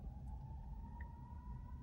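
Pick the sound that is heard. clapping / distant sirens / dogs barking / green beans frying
distant sirens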